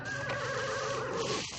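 A horse whinnies loudly and steadily for over a second in an outdoor dramatic scene, the neigh close and dominant, with faint hoof sounds toward the end.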